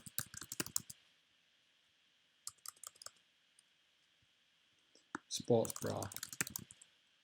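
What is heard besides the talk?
typing on a computer keyboard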